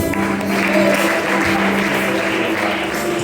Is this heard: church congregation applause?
yes